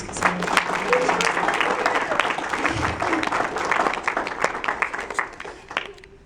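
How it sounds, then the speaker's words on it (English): A crowd claps steadily in sustained applause for several seconds, dense and lively, fading slightly at the end. "Give them a round of applause."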